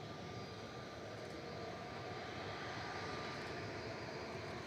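An Airbus A380 jet departs Manchester Airport from runway 23 left, heard as a steady, broad engine roar from a distance, constant throughout with no voices.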